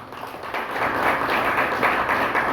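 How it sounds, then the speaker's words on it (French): Steady crowd applause at a union's 30th anniversary celebration, dense and continuous clapping from many hands, fairly loud throughout with no voices on top. "il y a notre tonnerre d'applaudissements pour Monsieur Lameyo."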